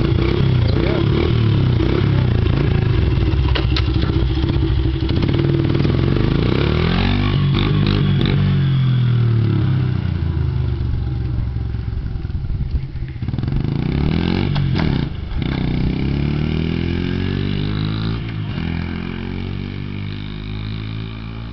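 A 2002 Honda 70cc dirt bike engine starts and runs outdoors, its loud buzzing putter rising and falling in pitch as the throttle is blipped, close up and continuous throughout, with a few voices faintly under the engine.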